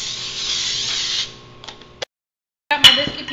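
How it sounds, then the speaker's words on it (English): Cooking spray hisses in a steady burst for about a second, followed by a few faint clicks, a brief silence, then light handling noises. "we're going to just start off by spraying our pan"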